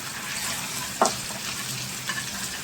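Fenugreek and curry leaves fry in hot oil as a tempering for prawn masala, giving a steady close sizzle broken by a sharp crackle or pop, with no voices.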